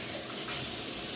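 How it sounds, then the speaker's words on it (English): Tap water runs steadily over hands at a kitchen sink while baking Trader Joe's pumpkin spice snickerdoodle cookies, a broad continuous splashing rush heard close up with no talking. "wash my hands a little bit"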